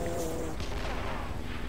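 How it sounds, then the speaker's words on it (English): A bazooka fires in World at War on PS3 during a tank-warfare team deathmatch, one dull blast rising out of the constant low rumble of battle. "Guy missed his bazooka."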